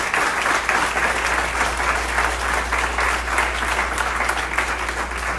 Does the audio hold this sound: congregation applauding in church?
yes